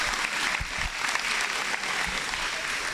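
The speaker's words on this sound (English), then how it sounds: "Can we please give another warm round of applause to the Year 11s for a job well done?" Warm round of applause from a school audience at a prize giving day honouring the Year 11 students, steady dense clapping filling the room throughout with no voices over it.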